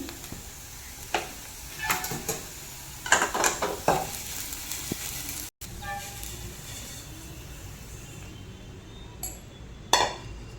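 Food sizzles in a pan with scattered clatters of a utensil against metal, then a brief cut and quieter frying afterward.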